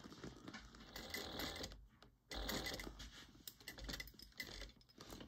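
A sewing machine stitches a tote bag in a steady mechanical whir with a brief pause, quiet and fairly close, with no talking.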